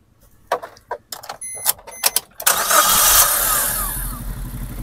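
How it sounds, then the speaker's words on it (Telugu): A Maruti Ertiga's engine cranks after a few light clicks and taps, catches, and settles into a steady, fairly loud idle that runs to the end. "ఒకసారి ఇంజిన్ స్టార్ట్ చేసి మీకు ఆయిల్ రిఫ్లెక్షన్ ఏమైనా ఉందో మీరు ఒకసారి చెక్ చేసుకోవచ్చండి."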